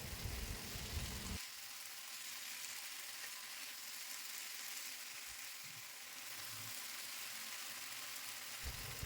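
Steady broadband sizzle of tomato, onion, ginger paste and garlic paste sautéing in a pan for a taro curry, a continuous close frying hiss that runs unbroken under faint background noise, with a short low knock near the start and end.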